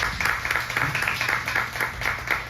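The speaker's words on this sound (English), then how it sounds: "let's give Bill a round of applause" An audience at a patriot gathering in Southington, Connecticut claps in a short burst of applause. The clapping is moderately faint and fairly even, with a little background voice under it.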